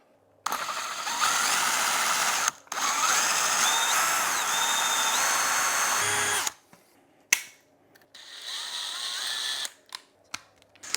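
A power drill whines at high speed for several seconds, briefly pausing, then runs again in shorter bursts with changing pitch as it bites into a stripped screw, with the wrong bit snapping the screw head off.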